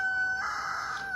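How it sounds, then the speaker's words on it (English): A Maran rooster crows nearby, one sustained call over a quiet farmyard with no voices. "this Maran is a rooster"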